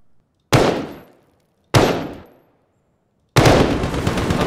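Gunfire in a first-person shooter game: two loud, close single shots with fading tails, then a third blast that runs into sustained rapid fire.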